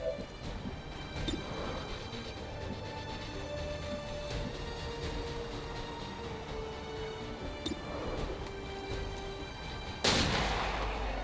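Gunfire in the tactical strategy game XCOM 2, scattered shots and impacts over a steady background hum, mostly moderate in level, ending in a sudden louder burst near the close.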